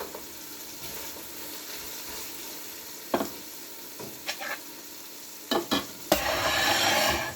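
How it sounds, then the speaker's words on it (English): Carrots drop into a sizzling pot of white beans, meat and chouriço, with soft frying crackle, a few stirring clatters and a louder sizzle swelling at the end. "what I'm going to do now is I'm going to add my carrots in here"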